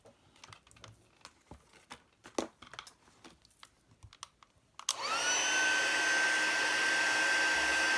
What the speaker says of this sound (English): holding the heat gun